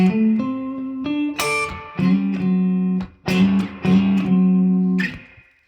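An electric guitar on the out-of-phase neck-and-middle pickup setting, picked with a Dunlop Jazz 3 pick, plays a slow 12/8 blues lick in D. Loud bent notes and short phrases are broken by brief pauses, and the lick fades at the end.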